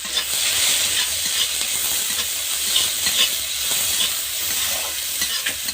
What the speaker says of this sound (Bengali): এবার মাছের ঝোল তুলবো, তাই কড়াই তেল দিয়ে দিয়েছি আর পেঁয়াজ দেবো।